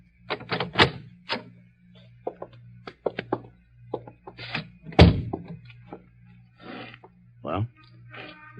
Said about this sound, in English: knocked on the door